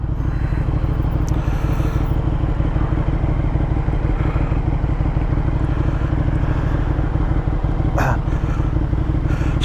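A KTM 1290 Super Duke R (2020) motorcycle engine idles loudly and steadily through its exhaust, a close, continuous rumbling throb with a few light clatters and a brief sharper spike near the end.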